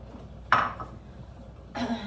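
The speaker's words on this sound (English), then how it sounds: "I'm gonna get a fresh coffee cup for this one" A fresh coffee cup is taken out in a kitchen, giving two short, sharp clinks about a second apart with quiet room noise between.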